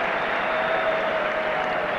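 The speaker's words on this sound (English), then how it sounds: "which is why there's a big cheer" Crowd cheering at a Macedonia versus England football match as Brazilian-born substitute Aguinaldo Braga of Vardar comes on, a dense, steady roar of many voices filling the stadium throughout, loud and unbroken with no single voice standing out.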